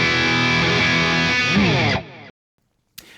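A heavily distorted electric guitar chord through a ToneX One amp modeler rings out loud and sustained, then is cut off abruptly, leaving silence before a short final burst.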